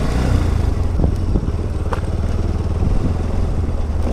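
Motorcycle ridden off-road through forest, its engine chugging steadily and close with rhythmic pulsing and occasional clattering bumps.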